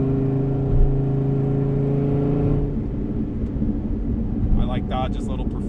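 Dodge Viper ACR Extreme Aero Package engine droning steadily from inside the cabin, its low harmonic hum shifting to a rougher rumble partway through, with a voice talking over it.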